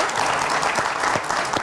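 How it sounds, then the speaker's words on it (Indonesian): A studio audience on an Indonesian television talk show claps in a dense, steady round of applause, while a voice speaks over it. "Kita berikan tepuk tangan dulu."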